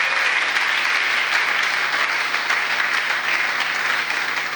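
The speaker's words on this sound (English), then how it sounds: "You should be applauding by now." Audience applause at a university's tenth anniversary ceremony: steady, dense clapping from a large crowd, sustained and fairly loud throughout with no pauses.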